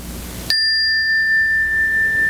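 A Buddhist temple bell struck once, a clear bright strike that settles into a long, pure sustained ring lasting well over a second, loud and alone.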